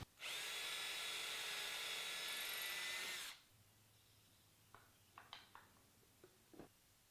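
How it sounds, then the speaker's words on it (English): A power drill pre-drills screw holes into a clamped wooden chime cover, one loud steady whine for about three seconds, then stopping, followed by a few faint knocks and taps. "Now I'm just going to pre-drill for some screws,"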